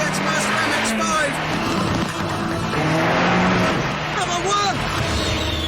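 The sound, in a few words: Mazda MX-5 sports car racing around a track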